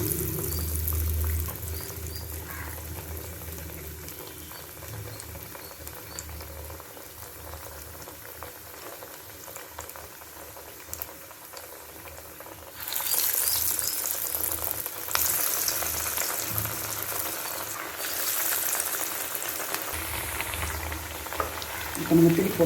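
Cabbage dal vadas deep-fry in hot oil, a low bubbling that turns louder and crackling partway through, then settles into a steady fizz, with no talk.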